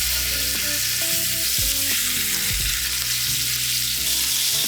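Salmon pan-fries with a loud, steady sizzle and crackle, close and continuous, under some low tonal background sound and without talk.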